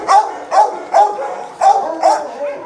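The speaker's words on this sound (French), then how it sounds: "c'est pas méchant s'ils aboient, s'ils sautent un peu sur les grilles, c'est juste qu'ils essaient de se faire remarquer à leur manière" Dogs barking in the kennels of an SPA animal shelter in Gennevilliers, five loud close barks in a regular rhythm about half a second apart, alone without talk.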